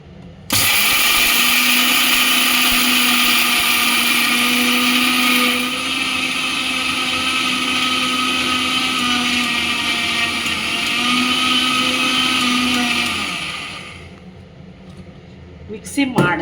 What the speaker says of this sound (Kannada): ಈಗ ಇದನ್ನು ಮಿಕ್ಸಿ ಮಾಡ್ತೀನಿ.